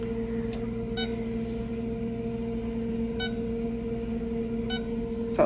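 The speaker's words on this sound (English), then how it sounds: "set the timer for 30 minutes" An oven timer is set for 30 minutes at 500 degrees, giving a few short, sharp electronic beeps spaced irregularly over a steady kitchen hum.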